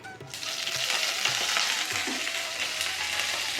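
Steady, loud sizzling of vegetables with curry leaves sautéing in a hot pan for ragi rava upma, with occasional soft scrapes of stirring underneath.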